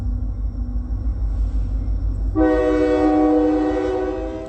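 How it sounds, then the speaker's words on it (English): Train on Amtrak railroad tracks at night, a low steady rumble and then a loud sustained horn blast, close and continuous, no talk. "the sound of a train while the state runs a train back and forth on the train tracks"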